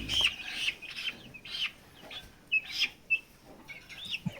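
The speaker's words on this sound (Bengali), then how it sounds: "এগুলো হচ্ছে টাইগার মুরগিগুলো টাইগার মুরগিগুলো" Tiger breed chickens cluck in short, separate bursts close by, one after another while the birds are handled one at a time, with quiet gaps between calls.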